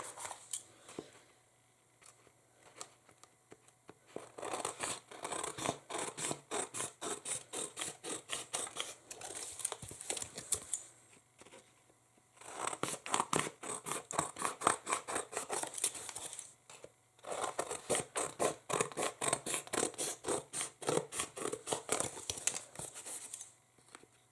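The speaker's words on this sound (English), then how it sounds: "there is an overhang which I'm just going to cut off now" Scissors snip away overhanging paper from a mixed media craft canvas in long runs of quick, close, crisp cuts, broken by two short pauses, with no talking.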